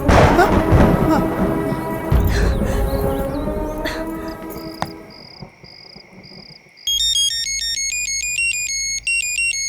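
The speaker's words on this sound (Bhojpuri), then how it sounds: "फोन कैले बिया। उठाई।" A mobile phone ringtone rings after a louder musical passage fades, playing a bright, repeating electronic melody that is loud and clear in the final seconds.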